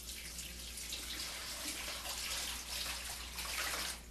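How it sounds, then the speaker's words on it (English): Water pours steadily into a soup pot over chicken for cream of chicken soup, two quarts at a time, a soft continuous splashing hiss at low level with slight surges, heard alone. "And then we're going to add the water."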